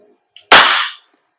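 A single sharp crack from an airsoft gun fired over a chronograph, preceded by a tiny click, close and loud, then silence.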